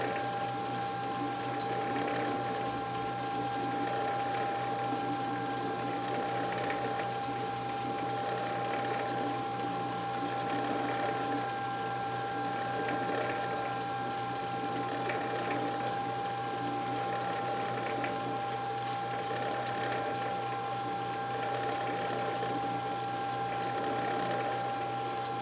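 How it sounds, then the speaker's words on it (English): A lathe turns slowly at 140 RPM, its lowest speed, while reaming a part during a Stuart Beam engine build, giving a steady mechanical hum with faint rhythmic ticking that runs continuously and evenly throughout. "When you're reaming on the machine, go as slow as you can. This is running at 140 RPM. That's the slowest my lathe will go."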